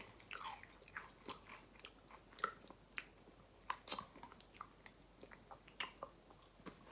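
Takis rolled tortilla chips being chewed up close, a string of crisp, irregular crunches and bites spaced a fraction of a second apart, fairly quiet and with no talking.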